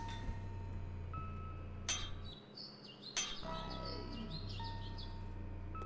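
A family's pet bird chirps in the horror RPG Angels of Death, short high tweets over a low, steady game-music drone, with a bright glassy clink partway through.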